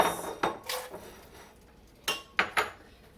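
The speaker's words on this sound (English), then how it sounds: "Then stir in the egg noodles, the carrots," Metal spoon clinking and scraping against a cooking pot while egg noodles and carrots are stirred in, a few sharp clinks spread over the moment, close and fairly quiet.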